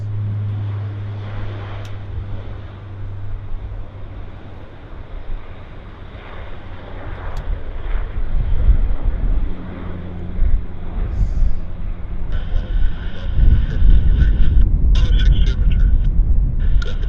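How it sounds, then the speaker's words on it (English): A WestJet Q400 turboprop accelerates down the runway for takeoff at Vancouver Airport, its engine roar swelling from a distant hum into a loud, wind-buffeted rumble that stays steady through the end. "Here's our Westjet Q400 on the roll right now."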